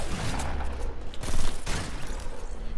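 Pump shotgun fire in Fortnite, dense and loud, with blasts blurring into a continuous roar of combat noise that swells midway before easing off.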